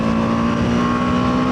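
A BMW G310R motorcycle engine held at high RPM, a loud, steady, buzzy drone with a strong sustained tone and no talk.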